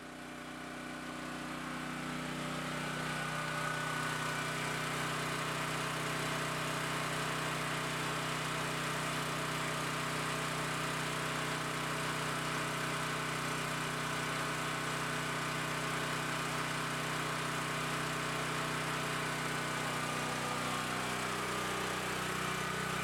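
A portable generator converted to run on propane drones steadily at a constant idle, a continuous mid-pitched engine hum with faint mechanical vibration and no break.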